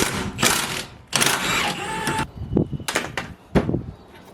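A ratchet loosens a 17 mm coilover bolt on an Infiniti Q50 Red Sport during an RS-R Best-i Active coilover install, giving several close, loud bursts of rapid clicking separated by short pauses.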